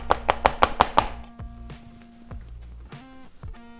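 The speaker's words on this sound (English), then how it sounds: "Give that a rough chop." A knife roughly chopping rinsed, drained capers on a board, six quick sharp chops in a row up close, then a few scattered knocks and scraping as the pile is gathered.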